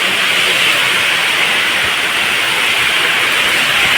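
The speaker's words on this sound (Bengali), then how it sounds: "ঝড়ি হচ্ছে এখানে।" Stormy wind and rain outdoors, a loud, steady broadband roar of wind and rain that holds unchanged throughout, with no voices.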